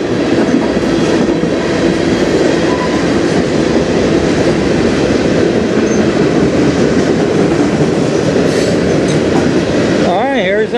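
Short CN freight train rolling by on the Strathroy Subdivision, a loud, steady clattering rumble of cars passing close, with a brief wheel squeal near the end.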